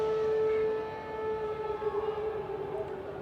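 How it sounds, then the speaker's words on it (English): A halftime siren sounds at DHL Stadium during a Stormers XXIII versus Bulls XV rugby match, a steady sustained wailing tone that holds loud and then slowly wavers under crowd noise. "And the halftime siren."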